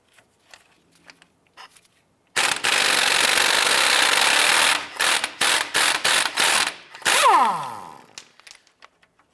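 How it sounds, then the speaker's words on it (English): A nut on a 2001-2005 Honda Civic CV axle mounting being removed with a 19mm socket and wrench: a few light clicks, then a loud continuous power-tool whirr followed by several short bursts and a winding-down rattle. "Let's go ahead and remove the nut."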